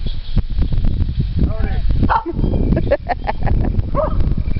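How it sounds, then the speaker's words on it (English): A dog barks and yips in short, irregular bursts near a snowy berry garden in Western New York, close and fairly loud, mixed with whimpering sounds and wind or handling noise. "she's barking at Sissy"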